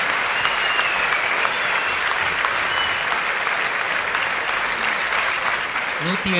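Audience at a tribute event honouring tree planter Saalumarada Thimmakka bursts into loud, sustained clapping that fills the whole stretch, dense and even, with a voice surfacing briefly near the end.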